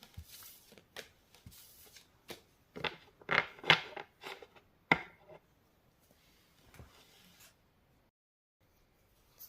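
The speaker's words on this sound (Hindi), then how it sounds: "ये कार्ड्स हटा लेती हूँ।" Tarot cards are slid aside and shuffled close up, making a run of soft papery riffles and brushing flicks in irregular bursts, then fading to near quiet.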